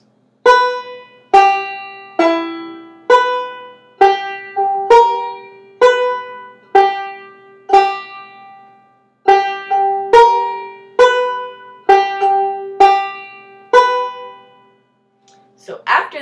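Lonesome Road Blues section picked on a fretted string instrument, a brisk run of bright plucked notes in a steady rhythm with a short pause midway, played alone and close.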